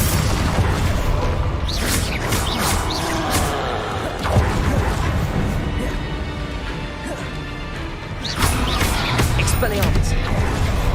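Confringo blasting spells burst again and again during a duel in Hogwarts Legacy on PC, each a loud crashing boom breaking through dense, busy combat noise, with voices talking throughout.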